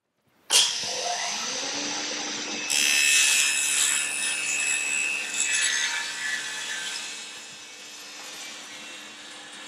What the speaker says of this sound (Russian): мы с вами опустили диск для того, чтобы распилить в более тонкую заготовку